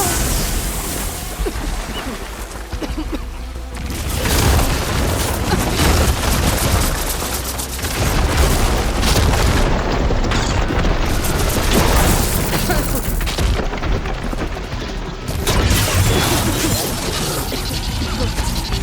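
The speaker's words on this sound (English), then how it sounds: "We'll fire a few shots from that ballista." Heavy booming shots and crashing impacts from a ballista in the video game Horizon Forbidden West, loud and dense throughout, layered over constant game effects and rumble.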